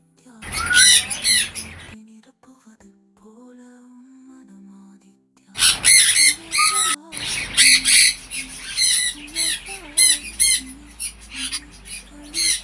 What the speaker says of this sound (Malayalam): അതുപോലെ വെറൈറ്റി തത്തകളുണ്ട്